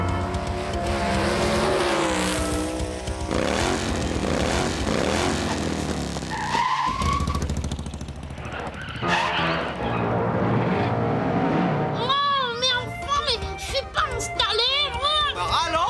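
An animated race car's engine roars and its tires skid through a loud, busy cartoon race soundtrack, with music and character voices talking over it throughout.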